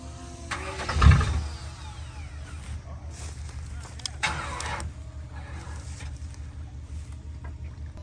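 A lifted mud truck on 44-inch Boggers sputters and struggles with wet spark plugs, its low uneven engine rumble surging once loudly and then chugging roughly, with a voice briefly heard over it.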